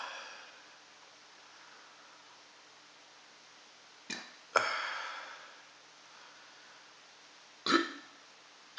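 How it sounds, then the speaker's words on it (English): A person burps after eating chocolate scorpion pepper powder: three short, quiet burps, two close together midway and one more near the end, against a soft hiss with no talking. "Oh, excuse me, hot burps."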